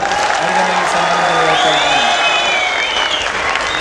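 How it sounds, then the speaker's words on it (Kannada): Steady applause from a large audience at a public speech event, continuous dense clapping with a faint cheer, while a voice speaks over it. "ನಿಮ್ಮೆಲ್ಲರ ಜೋರು ಚಪ್ಪಾಳೆಯೊಂದಿಗೆ"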